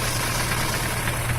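A motorcycle engine idles cold with an irritating mechanical noise, a steady low rumble that runs unbroken and fairly close throughout.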